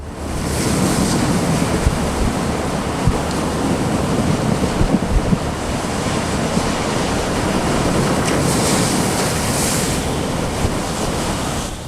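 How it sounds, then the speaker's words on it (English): Loud, continuous surf rolling and crashing onto shore, with strong wind buffeting the microphone throughout. "The drone captures the water washing into the land as the waves get bigger."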